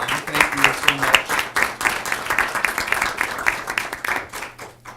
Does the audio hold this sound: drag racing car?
no